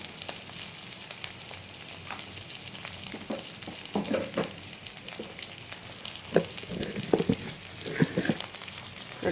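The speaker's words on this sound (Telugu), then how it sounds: "ఉల్లిపాయలు వేగిపోయినవి, ఈ ముక్కలు వేసాలి." Sweet potato pieces fry with onions in a pan, a continuous sizzle and crackle broken by occasional louder stirring scrapes and pops, heard up close with no talking.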